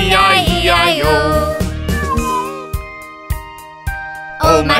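Meows sung within a children's farm-animal nursery rhyme, a voice imitating a cat in a repeated rhythmic pattern over bright backing music, loud and close, with brief pauses between phrases.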